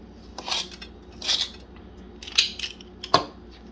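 Soft balls of snickerdoodle cookie dough set down onto a baking pan, heard as a few separate light taps and scrapes spaced about a second apart against a quiet background.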